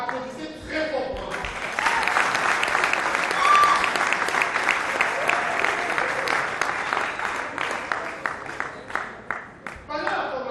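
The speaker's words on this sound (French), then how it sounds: "Applaudissez très fortement." Sustained applause from the audience at a graduation ceremony for an English course in Douala, starting sparse, swelling into full clapping for several seconds, then tapering off, with a voice speaking at the start and end.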